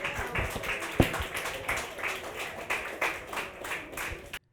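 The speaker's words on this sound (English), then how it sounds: "A round of applause." Audience applause at a school quiz competition, a moderate round of clapping lasting several seconds at fairly even strength, then cutting off abruptly.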